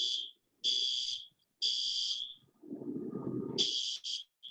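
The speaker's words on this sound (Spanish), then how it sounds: "Y esa es la alarma de evacuación." An evacuation alarm sounds during a drill. The harsh, high electronic buzzer repeats in bursts of roughly half a second to a second, with short gaps between them. Low murmuring and shuffling noise from people moving sits beneath it.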